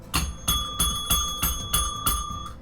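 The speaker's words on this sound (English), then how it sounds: "I give you the bell." A repaired bicycle-style bell rings six times in a steady rhythm, each bright metallic ding close and loud with a sustained shimmering ring between strikes.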